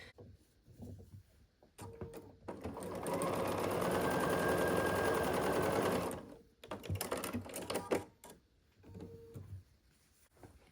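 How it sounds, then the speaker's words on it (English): A sewing machine stitching quilt half-square triangles together runs in one steady, close whir of about four seconds. Short bursts of fabric handling, clicks and machine adjustments come before and after it. "So these are going to get sewn together like this."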